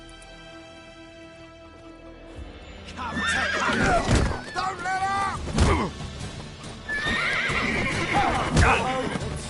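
Horses neigh and whinny repeatedly, with hooves clopping, while someone shouts briefly over the commotion, in the video game The Witcher 3: Wild Hunt.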